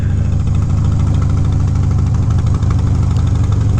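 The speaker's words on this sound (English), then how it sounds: "His pipes are just a little bit louder than mine." Harley-Davidson motorcycle with unbaffled Vance and Hines exhaust pipes, a loud, close, deep rumbling engine with a steady low throb throughout, riding along with no talking.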